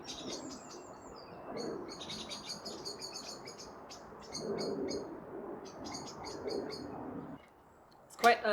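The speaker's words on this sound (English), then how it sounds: "there's a huge amount of commotion in the trees over there. All the birds are making alarm calls." Early-morning birds in orchard trees give repeated bursts of sharp alarm chirps and calls at a moderate distance, with low, faint sounds underneath.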